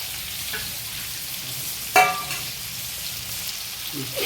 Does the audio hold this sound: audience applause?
no